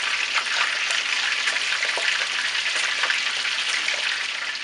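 White vinegar and sugar cooking down in a pan during a fish fry, giving a steady, close, loud crackling sizzle with scattered pops throughout and no voices.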